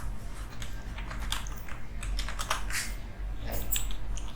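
Fingers type code on a computer keyboard, a continuous close run of light plastic key clicks with no voice over it.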